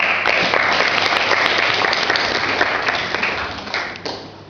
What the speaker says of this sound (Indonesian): Aplaus buat beliau